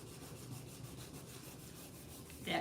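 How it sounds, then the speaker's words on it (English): A hand rubs the back page of a scrapbook to press the glue down, making a steady run of rhythmic, close scraping strokes that ends in a brief louder bump. "Then we're going to rub this back page"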